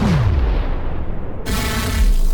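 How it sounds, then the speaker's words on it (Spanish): A loud, booming explosion effect in a narrated fantasy tale, with a low rumble that sweeps downward and a fresh blast partway through, sounding close and alone with no talking over it. "¡Explosión!"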